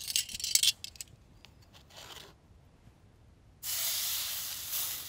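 A steak hits a cast iron pan of very hot smoked beef tallow and sears with a sudden loud, steady sizzling hiss after a few faint clinks and rustles.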